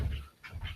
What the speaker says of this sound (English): That was the dog insisting he had to get into the room with me.